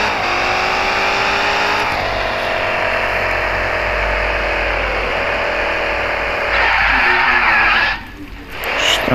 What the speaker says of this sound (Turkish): Niye bu araç hep kayıyor ya?